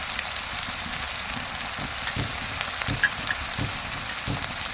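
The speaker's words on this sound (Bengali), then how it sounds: "যেহেতু রসুন এবং পেঁয়াজ বাটাটা মানে কাঁচা, সেহেতু একটু নেড়ে দেওয়ার দরকার। আর ওটা ভাজার পরে এখন দিয়ে দেবে মরিচের গুঁড়া" Raw garlic and onion paste fries in a pan with a steady low sizzle and hiss, joined by soft periodic scraping thumps of stirring, with no talking.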